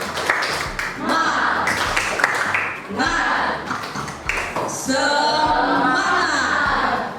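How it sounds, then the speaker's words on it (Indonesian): Rhythmic spirit clapping from a classroom of students, bursts of patterned claps mixed with a teacher's voice and children chanting along. "mari kita tepuk semangat di pagi hari ini supaya kita belajar lebih semangat"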